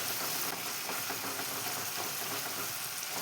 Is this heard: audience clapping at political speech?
no